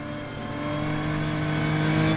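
Race car engine in the Rennsport sim racing game, revving steadily with a droning tone that rises slightly, as traction control cuts in on a sliding car; close and continuous with no talk.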